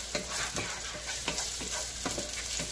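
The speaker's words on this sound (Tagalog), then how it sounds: "continue stirring lang po. Hanggang sa mag-golden brown na sila." Garlic and ginger sizzle in hot oil in a pan as the base for a chicken curry. A utensil stirs them in repeated scraping strokes, steady and close, with no voices.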